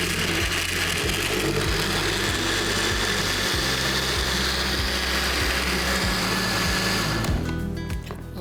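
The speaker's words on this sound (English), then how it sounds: "இப்போ அவனில் ரோஸ்ட் பண்ண தக்காளி எல்லாத்தையும் வந்து பிளெண்டரில் போடுறோம்." A blender whirs steadily at full speed as it purées oven-roasted tomatoes, a loud continuous motor drone with rhythmic chopping pulses, running alone until it winds down near the end.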